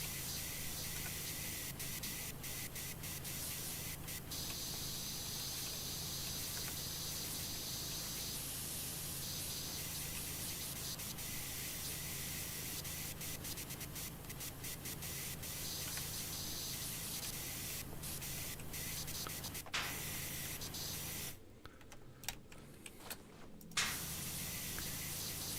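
Pressure washer spray in the video game Power Wash Simulator hisses continuously at a steady level, with brief cuts and a short break near the end before the spray resumes.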